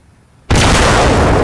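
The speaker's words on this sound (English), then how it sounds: "Boom! That was actually a good explosion." A nuke goes off in a Roblox video game, a sudden loud full-band explosion that bursts out of near silence and holds as a sustained roaring rumble.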